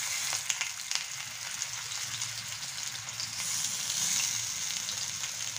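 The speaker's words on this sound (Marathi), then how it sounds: "तर आपण आता एक एक वडी हे तव्यावर ठेवायची आपल्याला." Spinach vadi fry on an iron griddle with a steady, hissing sizzle, close and even throughout, with a few faint taps early on and no talking.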